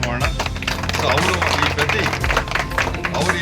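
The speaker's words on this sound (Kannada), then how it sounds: "ಅವರಿಗೆ ಒಂದು ಚಪ್ಪಾಳೆ ಮಾಡೋಣ." A crowd at an outdoor tree-planting event claps for the residents of the layout, giving a dense burst of hand claps mixed with murmuring voices close by.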